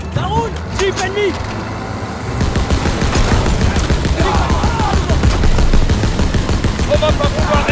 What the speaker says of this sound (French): Je me mets à la mitrailleuse!